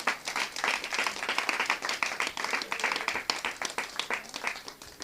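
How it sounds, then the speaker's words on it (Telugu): A congregation at a fasting prayer meeting claps loudly, with many hands striking in quick, uneven rhythm that fills the space close by and continues without pause. "గట్టిగా చప్పట్లు కొట్టి దేవుని మహిమపరచండి."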